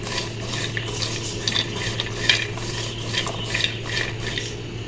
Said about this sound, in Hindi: अच्छे से हमने इसको 2 से 3 मिनट भूनना है।